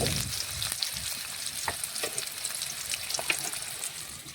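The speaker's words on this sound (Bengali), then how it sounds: "এখন পেঁয়াজ নাড়াচাড়া করে পেঁয়াজটা একটু লাল লাল করে ভেজে নেব।" Chopped onions frying in oil with cumin and bay leaf, stirred in the pan: a steady, close hiss of sizzling with soft scraping strokes of the spoon, no talking.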